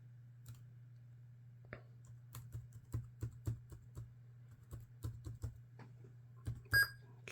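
Keys being typed on an old Dell laptop keyboard, a sparse, uneven run of light clicks and taps over a steady low electrical hum, close and fairly quiet, ending with a brief electronic beep.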